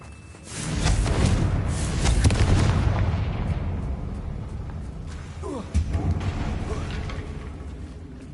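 A Confringo blasting curse exploding on a bridge in Hogwarts Legacy: a deep, rumbling boom that swells, holds for several seconds and slowly fades, with a small crackling burst partway through.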